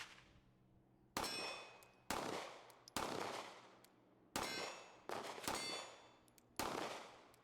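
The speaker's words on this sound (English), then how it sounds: "I'll have to remove the mag, and then I'll have to lock it back and then send it home like that." Sig P365 XMacro pistol slide locked back and released, seven sharp metallic clangs at irregular intervals, each ringing briefly and fading, close and alone.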